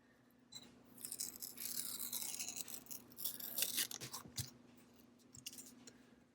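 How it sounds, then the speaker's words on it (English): Vinyl transfer tape is peeled slowly off a wine glass, giving a close, fairly quiet crackling rasp that swells and fades over several seconds with no talking. "now I'm just gonna peel away my transfer tape"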